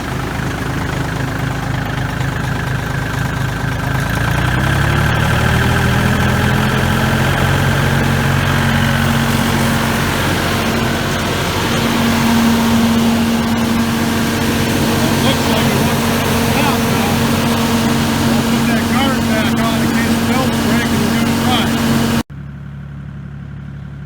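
A John Deere 230 three-point leaf blower roars loudly and close, its engine pitch rising early as the RPMs are raised, then holding a steady drone before cutting off abruptly near the end.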